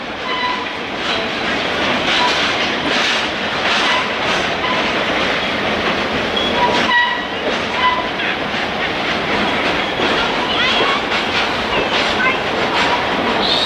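An Adirondack Railroad passenger train runs steadily, its loud, continuous rumble and rhythmic clickety-clack of wheels on rail filling the whole stretch, with a brief dip partway through.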